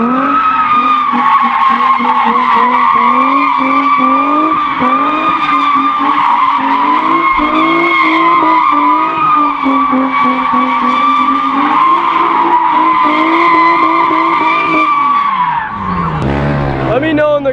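Car at a street car meet doing burnouts and donuts: sustained loud tire squeal and skidding over a revving engine, wavering continuously, then tapering off near the end.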